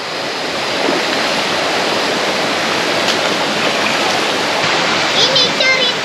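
Water in a campsite stream rushes and splashes steadily as someone bathes in it, a continuous close wash of noise with faint voices at moments.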